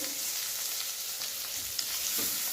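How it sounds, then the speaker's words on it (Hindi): Garlic ginger paste sizzles and crackles steadily in hot oil, a continuous close frying hiss with a few soft stirring scrapes. "यहाँ लहसुन अदरक की पेस्ट डाल दी 1 क्यूब।"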